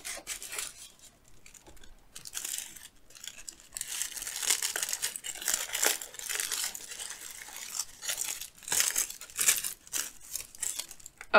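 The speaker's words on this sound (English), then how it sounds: "Comes in little pink tissue paper." Pink tissue paper wrapping a small Mini Bratz figurine from an advent calendar is crinkled and torn open close up in repeated rustling bursts, with no one talking.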